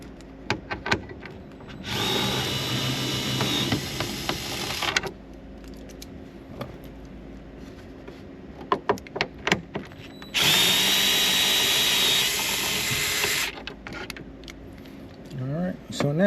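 A power drill with a right-angle attachment drives bolts holding the glove box of an Audi, two sustained whirring bursts of about three seconds each, close and loud, with clicks and handling noises between.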